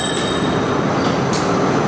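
A passenger train rolls steadily along the Northeast Corridor rails between Philadelphia and New York, a dense continuous rumble with faint high squeals, heard close from inside the car with no voices.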